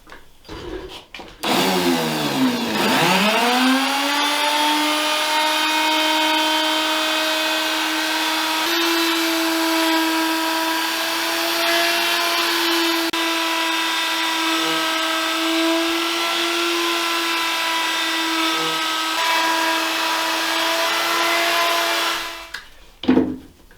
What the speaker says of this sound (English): And I'm going to do that with the good old router here.